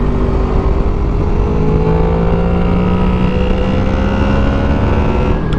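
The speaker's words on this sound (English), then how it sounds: "I think we're just going to listen to my bike around corners, do some back roads on a Sunday evening" A Honda VFR800 VTEC motorcycle rides back roads on a Sunday evening, its engine a loud, close, continuous drone with wind rush as the bike sweeps through corners, pitch rising and falling gently, no talking.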